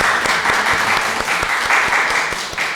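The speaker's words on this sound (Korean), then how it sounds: "저기 앉아 계신데 잠시 일어나시면 저희 박수로 환영하도록 하겠습니다." A church congregation at a Sunday service claps in welcome, a fairly loud, even round of applause with rhythmic individual claps standing out.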